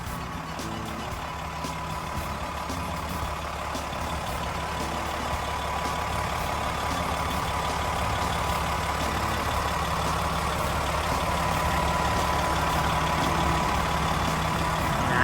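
A Komatsu WA300-3E wheel loader's six-cylinder turbo diesel engine (6D102) idles with a steady low rumble and turbo whine, growing slightly louder, while faint intermittent beeps sound in the background.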